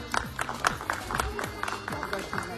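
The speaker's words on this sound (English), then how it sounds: "Clap for Umar." Audience at a school Pakistan Day celebration claps for a second-place prize winner, a light, uneven patter of hands that comes and goes across a few seconds.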